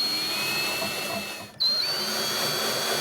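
A power drill drives screws into the upper and lower elements of a plywood kitchen island, a steady close whine that dips briefly in the middle before resuming at full speed.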